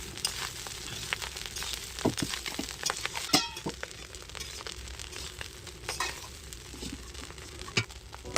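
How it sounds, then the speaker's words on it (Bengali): Rice being stir-fried in a pan with ghee and vegetables, giving a faint sizzle under scattered scraping and light clinks of the spatula, fairly quiet and uneven. "নেড়ে চেড়ে ভাতটাকে কিছুক্ষণ ভেজে নিতে হবে।"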